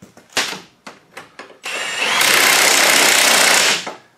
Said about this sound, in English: Just going to tighten it. Add a wrench.